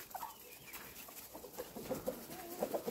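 Cochin chickens cluck softly in a farmyard poultry pen, a handful of short, quiet calls scattered mostly through the second half over faint background noise.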